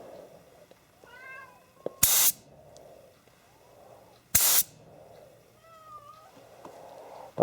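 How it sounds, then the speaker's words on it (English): A cat meows several times outdoors, rising and falling calls spread out over quiet background, interrupted by two loud bursts of paint-gun spray. "Cat mowing away outside because she got kicked out."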